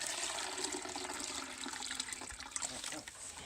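Water poured into a toilet bowl to rinse it, a soft steady splashing trickle, faint and continuous.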